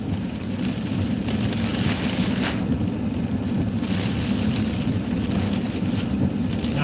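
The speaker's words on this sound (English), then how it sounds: "God, you can feel the wind." Strong wind gusts during a tornado outbreak storm chase roar across the microphone in a heavy, constant rumble with brief louder buffets, no talking.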